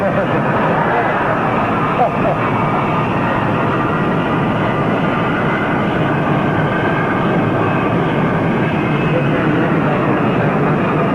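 Steady loud roar of a jet airplane's engines as it taxis close by, a constant broadband rumble with voices faintly underneath.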